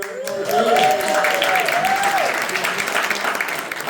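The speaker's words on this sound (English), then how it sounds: "Clap it up for me." An audience at a comedy show bursts into steady applause, with a voice briefly calling out over the clapping at the start.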